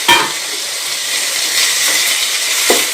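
Four chopped green chillies dropped into hot oil with onions in a pan while making potato bhaji for poori, giving a loud, steady sizzle and hiss with a brief clatter at the start.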